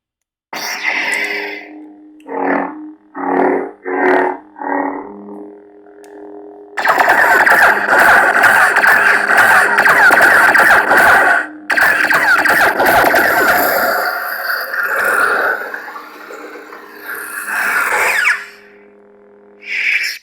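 An SP Sabers Exile Elite Obi-Wan Kenobi lightsaber with a CFX board, blue blade: a few short bursts of sound effects, then a fast ignition into a loud, steady electronic hum with swings, cutting off and resuming.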